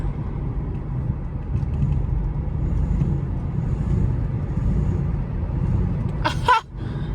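Car engine droning steadily while driving home late at night, a low continuous rumble with road noise, interrupted near the end by a brief sharp clatter.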